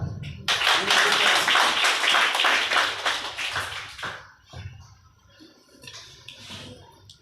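An audience at a ceremony gives loud, dense applause for a woman named Safiana. The clapping fades after about three seconds, and then a voice speaks over the quieter room.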